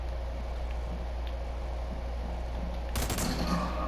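A single sharp sniper rifle crack bursts out about three seconds in, during a military shooter video game, after quiet low background hum.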